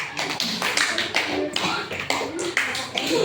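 Schoolchildren clap their hands in a classroom, a dense ragged burst of claps with rhythmic surges repeating across the clip, loud and close, with some voices mixed in.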